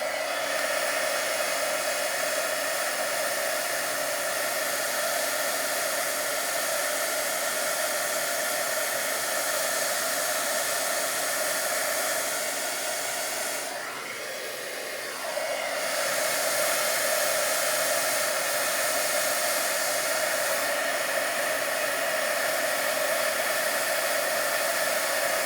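A heat gun blows steadily while melting embossing powder on a stamped card, a continuous loud airy roar that dips briefly partway through as the gun is moved, then resumes at full strength, with no talking.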